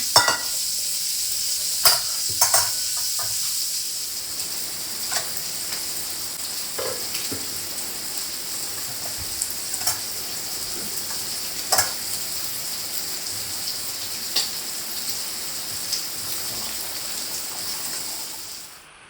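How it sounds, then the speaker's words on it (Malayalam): Fish frying in a pan for a home lunch, a steady bright sizzle that runs throughout with occasional sharp pops and crackles, fading out at the very end, with no talking. "അങ്ങനെ ചോറൊക്കെ വാർക്കുമ്പോഴേക്ക് നമ്മൾ മീനൊക്കെ പൊരിഞ്ഞ് സെറ്റായിട്ട് കിട്ടിയിട്ടുണ്ട്"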